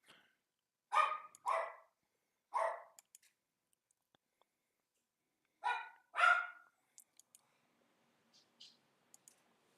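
A dog barks outdoors in a few separate bursts of two or three barks, fairly distant, with quiet stretches and faint clicks between them.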